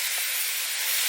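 Onion, garlic and pumpkin cooking in a pot give off a steady, close steam hiss that stays even and loud throughout, with no voices.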